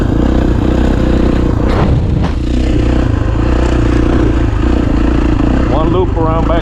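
Kawasaki KX450 dirt bike, a 2019 model on its first break-in ride, engine running steadily and loud throughout as it sets off on a loop, with a rising whine near the end.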